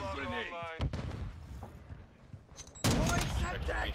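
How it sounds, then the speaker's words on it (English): In a first-person shooter game, a stun grenade goes off as a sudden loud blast near the end, preceded by scattered gunfire and a player talking over the action. "Throw your stun grenade."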